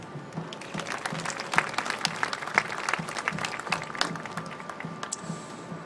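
Steady audience applause fills a large hall as a school marching band's members are introduced, many hands clapping densely and evenly at a moderate distance without pause.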